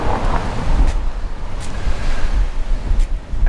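Steady roar of ocean surf at Palm Beach, Florida, with gusty wind buffeting the microphone, a continuous rumbling wash with no voices.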